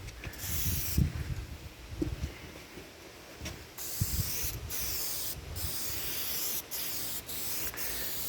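Aerosol rust converter sprayed onto the rusty steel chassis of a 1998 GMC Sierra LS-swapped street truck, in a series of hissing bursts of varying length, close and fairly loud, with short pauses and some knocking between them.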